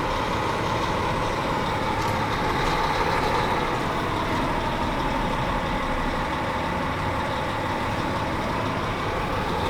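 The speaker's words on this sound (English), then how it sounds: "He's jabbing that bucket right in there. He is driving hard into that pile." Hyundai 985 wheel loader driving hard into a pile at a competitive equipment event: a loud, continuous diesel engine roar with rumbling load and faint high tones, steady throughout.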